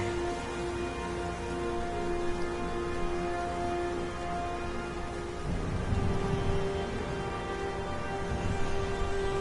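Steady rainfall in the PS4 game Heavy Rain forms a constant, dense hiss, with a low rumble swelling in the second half and no talking.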